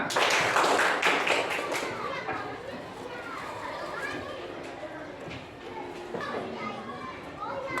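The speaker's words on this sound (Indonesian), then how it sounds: "Tepuk tangan buat kita semua." Schoolchildren in a fourth-grade primary classroom clap together, loud at first and then thinning into scattered claps amid children's chatter and voices.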